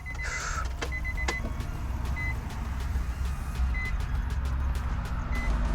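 Short electronic beeps from a gaming PC powering on inside a Nissan 350Z sound intermittently, a few spaced chirps over a low, steady rumble of background noise.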